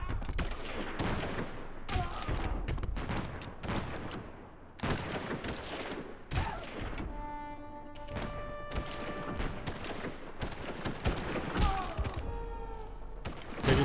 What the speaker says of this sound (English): they just bombarded the crap out of us with cannons